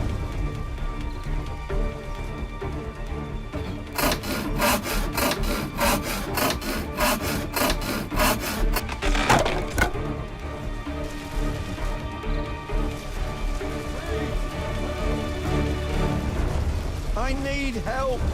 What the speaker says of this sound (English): Handsaw can cut off leg.